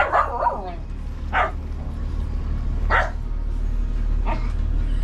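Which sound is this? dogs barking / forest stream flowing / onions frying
dogs barking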